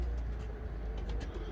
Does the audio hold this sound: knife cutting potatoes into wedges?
no